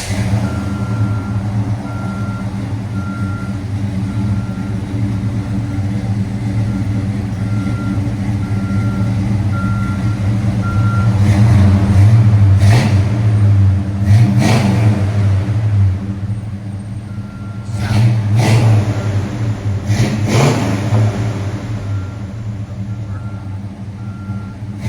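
A 1971 Buick Riviera with a 455 V8 and Flowmaster 40 mufflers rumbles at a steady idle, then revs in several short bursts around the middle and near the end, fairly close, with no one talking.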